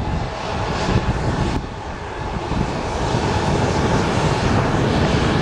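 United Boeing 737 in Star Alliance livery taxis past at Columbus, its jet engines giving a steady, close whine and rush with slight wind buffeting.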